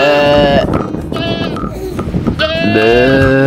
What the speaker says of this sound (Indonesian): Wow, kambing.